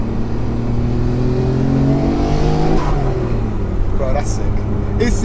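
A car powered by the RB26 engine revs and accelerates, its engine note climbing and then dropping as the gears shift, loud and close with a steady drone underneath.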